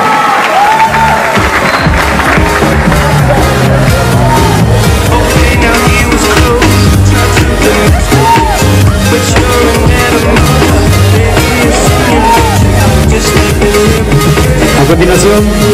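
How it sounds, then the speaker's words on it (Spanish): Crowd applauding and cheering at a student queen pageant for Student Day, a loud, steady wash of claps and shouts with music underneath throughout. "Con el aplauso."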